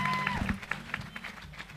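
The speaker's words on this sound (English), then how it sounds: "All they deserve is a thunderous round of applause." Audience applause for contestants at a business quiz final on stage, a short burst of clapping mixed with crowd noise and some voices, with a tone sounding briefly at the start.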